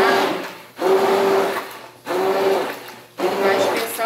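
A hand mixer whirs through a homemade soda-free liquid soap mixture in three loud, close bursts, each a steady motor drone that slowly fades before briefly stopping.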